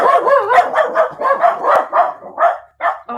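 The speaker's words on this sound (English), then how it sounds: "dogs are going to go crazy" Dogs barking excitedly as people come home, a rapid run of loud, close, high yapping barks with brief gaps and a whimper near the end.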